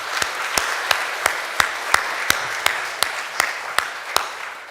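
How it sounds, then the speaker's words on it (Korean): A church congregation at a Sunday worship service claps in a slow, steady, evenly spaced rhythm, about a dozen crisp claps sounding moderately close, with no talking. "우리 아쉽지만 우리 박수로 격려하면 좋겠습니다"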